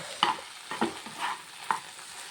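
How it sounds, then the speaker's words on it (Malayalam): Okra stirred with grated coconut and turmeric in a pan makes four or five quick, soft scraping strokes, close and moderately quiet, with a faint sizzle underneath. "ചിരവി വെച്ച തേങ്ങയും മഞ്ഞൾപ്പൊടിയും ചേർത്ത് കൊടുക്കാം അതിനകത്തേക്ക് കൂട്ടിയിട്ടുണ്ട് കേട്ടോ നന്നായിട്ടൊന്ന് മിക്സ് ചെയ്യാം ഒന്ന് ഒന്ന് ഇളക്കി കൊടുക്കട്ടെ"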